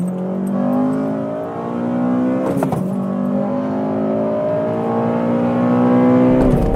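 A 2024 Honda Civic Si's engine accelerating hard, with subtle synthetic engine sound piped in. Rising revs climb steadily, drop briefly at a gear shift, then climb again, loud and close from inside the car.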